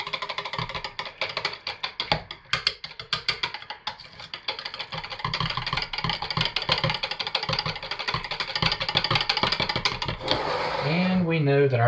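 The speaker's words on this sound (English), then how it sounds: "I'm going to stick blend it directly in" A stick blender whirs through soap batter as titanium dioxide is blended in, a continuous motor hum that starts choppy, then steadies into a sustained buzz and rises in pitch toward the end.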